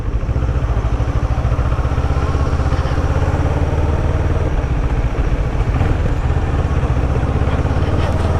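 A CF Moto 650NK motorcycle engine chugs along at a steady, low rumble while riding through town traffic, a continuous, even drone with wind noise and no talking.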